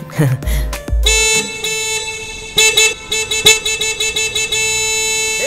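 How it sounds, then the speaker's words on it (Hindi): Several car horns honk repeatedly in a jammed street, starting with a few short blasts and building into a dense, overlapping chorus of steady toots and long held honks, loud and close, with traffic rumble underneath. "इतनी ट्रैफिक में तुम्हें जोर जोर से हॉर्न बजाने की क्या जरूरत है?"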